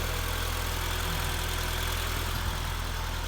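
A 1989 Volkswagen Jetta engine idles steadily with a low, even rumble and a faint hum, continuous and unchanging throughout.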